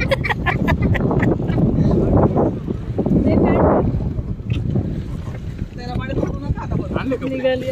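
A boat sets off on a backwater, its steady rumble mixed with heavy wind buffeting the microphone and water wash, while voices chatter over it throughout.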